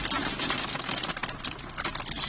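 Hail pelting down in a sudden storm, a dense continuous crackling patter of small hailstones drumming close around, steady and loud throughout.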